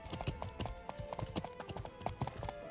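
Horse hooves clip-clop in a steady, quick rhythm while riding through an orchard in the Life is Feudal MMO, close and continuous with a faint tonal background.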